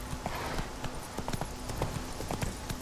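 Geralt's horse Roach galloping in The Witcher 3: Wild Hunt, a steady rhythmic clip-clop of hooves at moderate distance with no talk.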